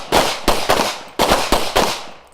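Gunshots at an international police shooting competition between state troopers and mounted police, outdoors: six loud, sharp reports in uneven pairs, each with a ringing decay, close and with no talk.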